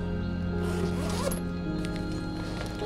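A Lowepro Highliner X400 camera roller bag zipper being pulled open, a close, continuous ratcheting rasp for a few seconds with brief pauses and bag handling noise.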